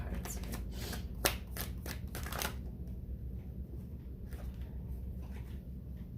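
A deck of tarot cards is shuffled up close, with a quick run of crisp riffling flicks and one sharp snap, then soft handling rustles.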